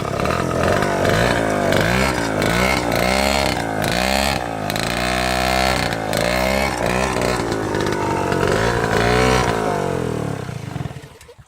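A YCF 50 Kougar pit bike's small engine runs loud and close, buzzing and rasping as it revs up and down repeatedly, then cuts off at the end.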